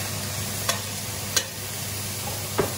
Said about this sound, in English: Let's sweat that down for a good 10-15 minutes. Keep stirring regularly.